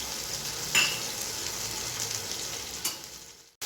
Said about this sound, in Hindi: 1 मिनट भूनते हुए मुझे हो चुका है